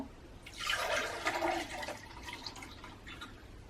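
Homemade orangeade made from fresh oranges is poured from a container back into a serving jug, a steady close splash and gurgle of liquid that swells after a moment and then tapers off.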